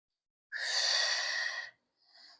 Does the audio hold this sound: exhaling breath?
yes